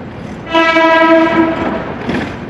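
A loud locomotive horn blares for about a second over the rumble and clatter of a passenger train with panoramic, dining and power cars passing close by at Manggarai Station, Jakarta.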